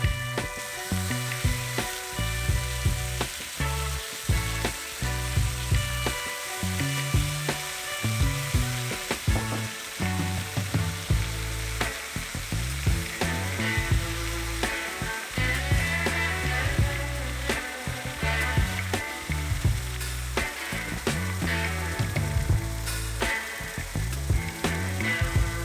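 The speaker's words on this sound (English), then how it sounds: "Now that the pan is up to temperature, add in the marinated pork and sear on each side for about 2 to 3 minutes" Marinated pork sears in a hot pan over a campfire, giving a continuous loud sizzle and crackle with irregular spitting pops and scraping clicks throughout.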